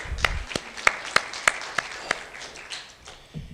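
A few sparse, sharp claps spaced about a third of a second apart, close by, at McMenamins Edgefield in Troutdale, Oregon, before trailing off into quiet.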